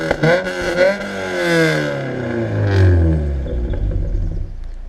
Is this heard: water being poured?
no